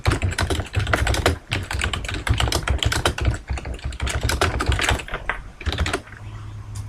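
Rapid typing on a computer keyboard, loud and close, with a dense run of key clicks and a short pause near the end.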